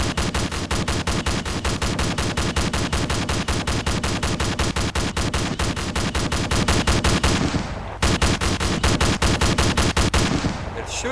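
Sustained machine-gun fire from enemies shooting at the player in a naval combat game: loud, rapid, evenly spaced shots that run almost without pause for about eight seconds, stop briefly, then resume.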